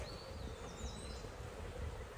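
Honey bees at an opened hive during a beekeeper's inspection, a continuous soft buzzing drone with a few passing individual bees whining higher, fairly faint and steady throughout.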